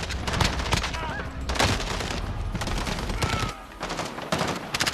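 Rapid PKM machine gun bursts in Call of Duty Warzone, loud and close, in several sustained volleys broken by brief pauses, with a voice talking faintly underneath.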